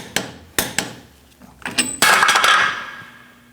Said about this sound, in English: We're going to torque this to 130 foot-pounds.